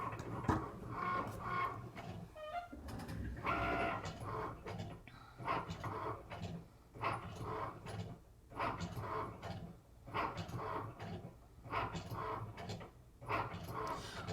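A Cricut cutting machine draws with a pen while making a holiday card, its motor whirring and clicking in short irregular bursts and pauses at fairly low volume.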